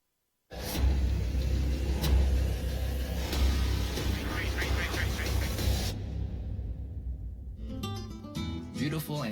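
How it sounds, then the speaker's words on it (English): Trophy truck engines at the SCORE Baja desert race contingency row in Ensenada, a loud rumbling roar that starts abruptly, swells and revs for several seconds, then cuts off into quieter background clatter. "Trophy trucks are out and ready to take on the challengers"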